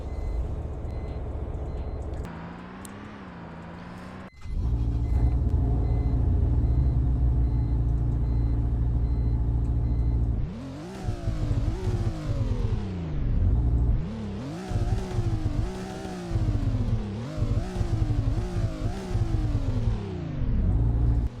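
Limited BMW car in Roblox Greenville, its engine note rising and falling through repeated revs and gear changes, with a steady idle-like drone first and then loud sweeping accelerations later.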